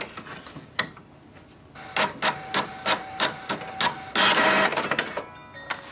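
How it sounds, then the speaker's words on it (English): An HP Envy 6055e inkjet printer feeds and prints a page, giving a run of rhythmic mechanical clicks and whirring pulses that end in a longer grinding feed, close and clear. "Wait for the printer to print a page."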